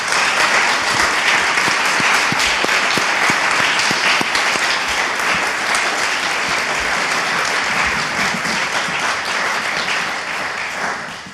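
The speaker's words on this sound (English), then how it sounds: "please join me in a round of applause for all of the candidates" A room full of people claps loudly and steadily for the candidates at a Mukilteo city council candidates' forum, the applause holding for about ten seconds before tapering off.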